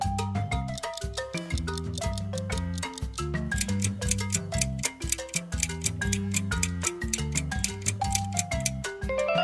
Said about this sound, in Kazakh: Әрине, сағат.